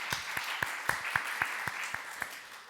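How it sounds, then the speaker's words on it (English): Scattered clapping at a church service, with distinct individual claps spaced roughly evenly over a few seconds, moderately quiet and sounding like a small congregation. "let's give him a round of applause, please"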